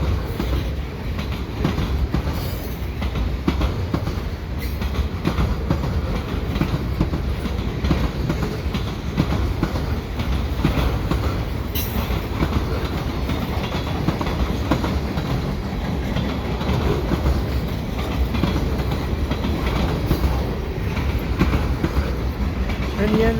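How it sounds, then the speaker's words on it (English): A CN 327 mixed freight train led by smoky CSX engines rolls past at the Dorval ramps near Montreal on a Monday afternoon, a loud, steady rumble of cars with rhythmic wheel clatter and occasional squeals, the passing sustained throughout. "And the end of the train is coming."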